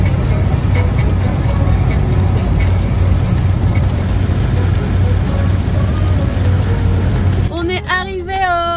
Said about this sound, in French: c'est trop dommage parce qu'il pleut